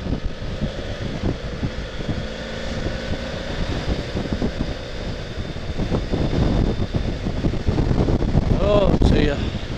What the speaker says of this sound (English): The winds are getting stronger the further home we come.